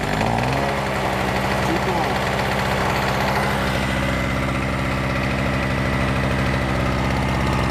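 A Harbor Freight TailGator two-stroke generator runs continuously at a loud, steady idle with a buzzing, pulsing engine drone close by.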